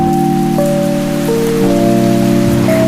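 Rain falls outside an office during the June closing, a steady close patter heard under sustained tonal hum, with no talk.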